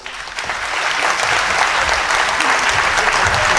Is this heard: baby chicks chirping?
no